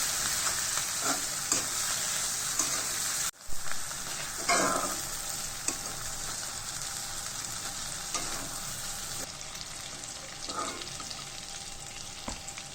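Shrimp frying in a pan with green chillies, a steady bright sizzle throughout with a few louder bursts of stirring, close and alone without any talk.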